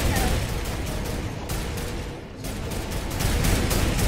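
Heavy gunfire in the video game Fortnite as players shoot at the cube during the end event, a loud continuous barrage with a brief dip in the middle.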